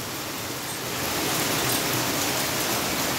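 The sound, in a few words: hailstorm falling on a balcony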